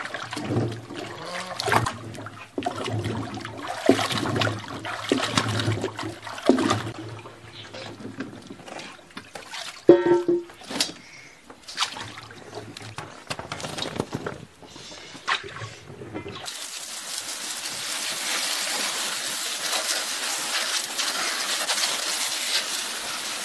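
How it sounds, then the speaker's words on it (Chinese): Sweet potatoes are washed by hand in water in a rural setting, with irregular splashing, sloshing and knocking at close range, then a steady broadband rush of running water toward the end. "现在首先要把这个地瓜清洗干净。"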